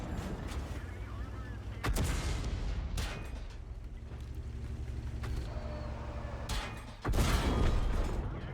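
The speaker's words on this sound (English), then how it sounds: "And you can see some shells bouncing off, which is pretty cool. The artillery coming in." Artillery fire and incoming shells strike and glance off an armored tank in World of Tanks, with sharp loud impacts near 2, 3 and 7 seconds over a steady engine rumble, and a voice talking faintly underneath.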